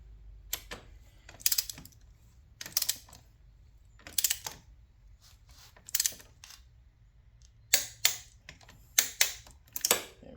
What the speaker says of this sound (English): should probably torque the head bolts down before I do anything.